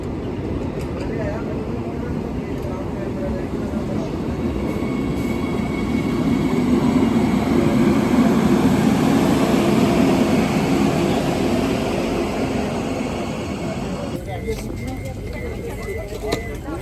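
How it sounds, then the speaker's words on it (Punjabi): A Vande Bharat train arriving at a station platform, a broad rumbling roar that swells toward the middle and then fades, with people talking nearby throughout. "ਬੰਦੇ ਭਾਰਤ ਟ੍ਰੇਨ ਆਪਦੇ ਨਿਰਧਾਰਤ ਸਮੇਂ ਤੋਂ ਅੱਧਾ ਘੰਟਾ ਲੇਟ ਚੱਲ ਰਹੀ ਹੈ"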